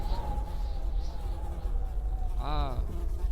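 Flies buzz in the horror video game 9 Childs Street, a thin continuous drone hovering faintly in the background, with a brief voice cutting in near the end.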